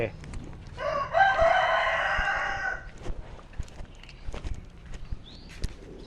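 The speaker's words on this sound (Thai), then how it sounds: "ไก่นี่ขันดีจังเลย" A rooster crows once, a long ringing call at moderate distance, followed by quieter ambient rustles and faint footsteps.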